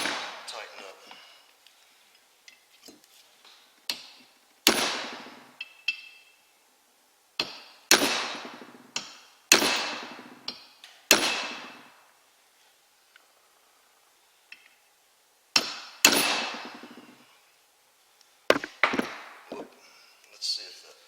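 Hammer striking the lock ring on a Chevrolet C10 power steering gear, several sharp metallic blows in irregular bursts with short ringing decays and quiet gaps between, close and loud.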